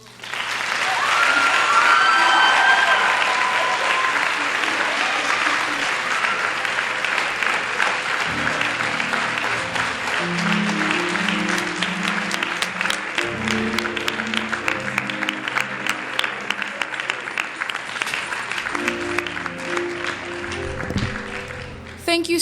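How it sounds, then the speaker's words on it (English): Sustained applause fills a hall at a high school Black History Month celebration, a loud dense clapping crowd continuing for over twenty seconds, with a voice speaking over it partway through. "Can we give him one more round of applause, please?"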